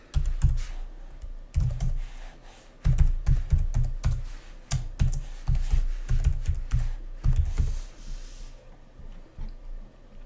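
Rapid clatter of typing an email address on a computer keyboard, close and fairly loud, in bursts of quick keystrokes with short pauses, no voices.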